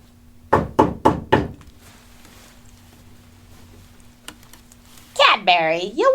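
Four sharp, evenly spaced knocks rap on a door in quick succession, followed by a quieter stretch with a few faint bumps before a voice begins speaking.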